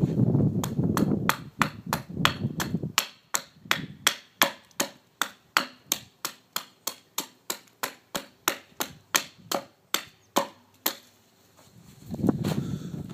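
A Fiskars X10 carpenter's axe carving a wooden spoon makes about thirty sharp, evenly spaced chopping strikes on wood, close and crisp, with quieter rustling before and after the run of blows.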